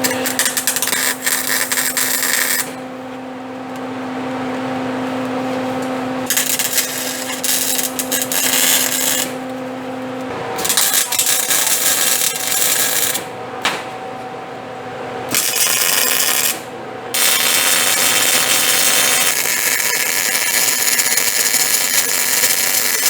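A power tool grinds steadily through a metal piece for a car's rear suspension, a loud, harsh, continuous whine broken by a few short pauses, close up and with no talk.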